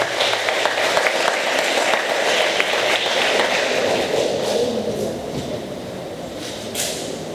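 A church congregation at a Sunday service applauds, a dense, sustained clatter of many hands that carries on evenly and slowly fades, heard from within a large room.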